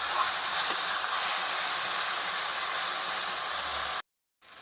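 A ground paste of ginger, garlic, cumin, chili, cloves and cardamom frying in oil gives a steady, close sizzling hiss that cuts off abruptly near the end, with no talking.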